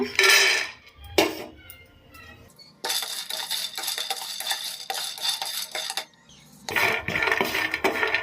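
Roasted seeds are tipped from a pan onto another plate, with metallic clinks and scraping in short bursts, a scattered rattle of small pieces, and quiet gaps between.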